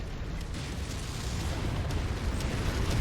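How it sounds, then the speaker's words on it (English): Flamer weapons in the video game MechWarrior 5 burn through a base, a continuous low roaring rumble with soft crackling bursts, moderately loud and unbroken. "I'm just going to circle the base, burning everything in sight."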